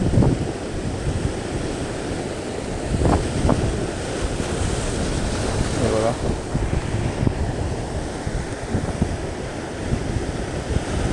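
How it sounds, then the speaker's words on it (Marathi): Rising sea waves break on the shore in rainy weather at a fishing spot, loud and continuous, with gusting wind buffeting the microphone and a few brief surges of heavier surf. "मित्रांनो इथून निघूया लाटा वाढल्या"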